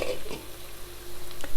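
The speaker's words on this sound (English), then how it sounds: "See the sizzling?" Green chicken curry sizzling in a pan as the oil bubbles out near the end of cooking, a steady close frying hiss with a brief stirring scrape, no talk.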